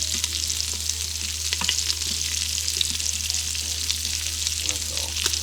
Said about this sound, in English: this sausage is already cooked. We're just browning it.